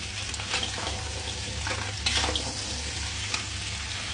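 Mud crab being stirred with dried chillies in a hot pan for kam heong, giving a continuous sizzle with scraping, clattering stirs that swell midway, close and fairly loud.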